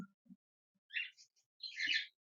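A few short, high chirps from a Java sparrow, close and clear, separated by silence, with a couple of soft low knocks.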